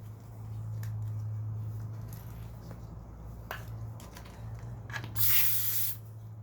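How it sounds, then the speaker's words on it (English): Air is pumped into a Rosso ebike X dirt bike tire that sat around 11 psi, a low steady hiss running throughout with a few clicks and a sharp, louder burst of escaping air near the end, no voices. "I can add some air and do the same with the rear tire."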